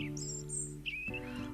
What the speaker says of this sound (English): Robins are strongly territorial, and although their song is pleasant, it's mainly used as a keep-out threat to rival birds.